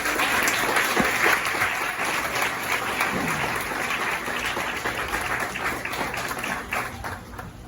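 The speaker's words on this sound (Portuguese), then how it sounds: "E aquele que pode, com muita reverência, aplaude ao Senhor Jesus Cristo" Congregational applause in a Portuguese-language church service, a sustained dense clapping from many people that holds steady and slowly tapers, with no speech over it.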